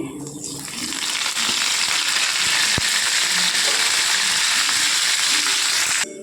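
Curry leaves dropped into hot oil for tempering masala rasam, an abrupt loud crackling sizzle that swells within the first second and holds steady before cutting off near the end.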